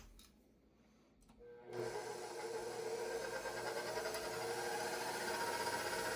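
Electric stand mixer with a whisk attachment starts up on medium speed, whipping cream for homemade butter; a steady, loud whirring buzz kicks in after a short quiet stretch and runs on continuously with a faint rattling texture.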